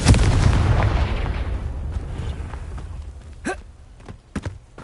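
A Confringo blast spell in a Harry Potter video game: a loud booming burst at the start that rumbles and fades over a few seconds, followed by a couple of short faint pops.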